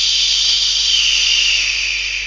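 Toy sausages frying in a play kitchen give off a steady, loud, hissing sizzle that runs unbroken throughout and fades slightly at the end.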